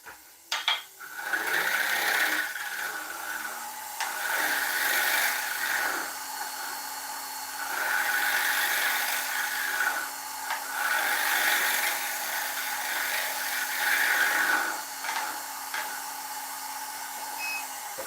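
A round-nose carbide tool cuts an ash bowl spinning on a wood lathe, giving a steady, raspy scraping drone that swells and eases in long passes under a constant motor hum. It is close, with no talking.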